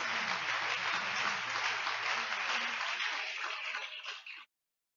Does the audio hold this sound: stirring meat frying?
no